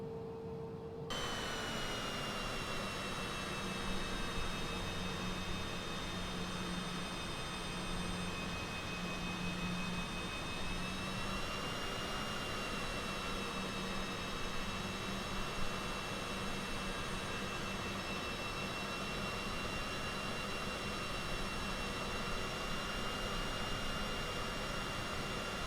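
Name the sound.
jet airliner taxiing in flight simulator video game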